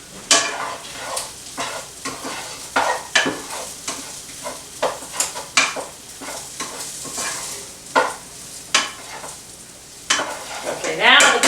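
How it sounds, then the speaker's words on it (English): Potatoes simmer with kielbasa sausage in a pan for scalloped potatoes with Swiss cheese, a soft sizzle broken by repeated clinks and scrapes of a utensil stirring against the pan, close and uneven in rhythm. "now the potatoes are actually simmering"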